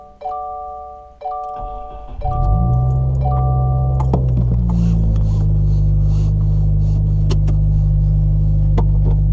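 Subaru WRX with a PERRIN shifter stop starting up and pulling away on a test drive, a steady close engine hum and road rumble building after a few seconds of chimes and cabin clicks.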